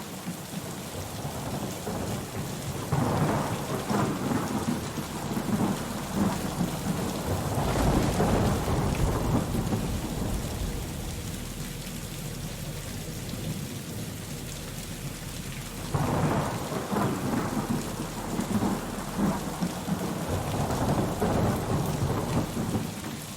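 A heavy thunderstorm with steady hissing rain and repeated deep rolling thunder claps swelling and fading in waves, loud and close, with no voices.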